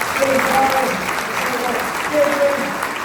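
Audience applause at a live on-stage show at the National Motorcycle Museum with a host and friends, a steady, dense wash of clapping from a crowd, with a voice faintly over it.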